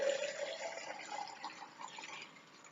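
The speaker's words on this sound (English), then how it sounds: "Next, you're going to take all this hot water, pour it right in here." Hot water poured into a French press of ground coffee, a steady splashing liquid stream that is loudest at the start and then settles into a softer continuous trickle with no talking.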